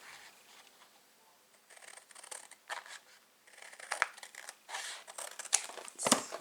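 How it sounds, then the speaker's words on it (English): Long scissors snip the corners off cardstock in a series of crisp, close cuts that grow louder and more frequent toward the end. "now we're going to snip the corners off. Let me find my long scissors."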